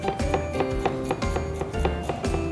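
Garlic minced on a cutting board with a knife, a rapid, irregular run of close, crisp chopping taps for a Korean chicken mozzarella stew, with no talking.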